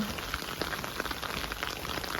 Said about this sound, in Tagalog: Tingnan po ninyo, umuulan ng yelo ngayon.